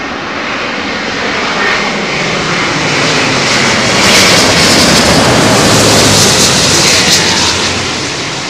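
Airbus A350 airliner arriving on runway 27L at Heathrow, a loud, steady roar of jet engines swelling slightly as it passes close, with no talk.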